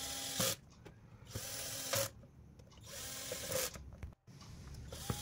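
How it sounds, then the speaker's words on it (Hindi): Screws being driven into the digital meter cover of a Bajaj Pulsar 150, with brief sharp clicks and whirring bursts recurring at intervals, close and moderately loud over a steady low background. "सो ये रहे इसके 5 स्क्रू, तो 5 के 5 मैं इसमें लगा देता हूँ।"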